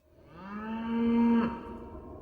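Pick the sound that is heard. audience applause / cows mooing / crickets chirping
cows mooing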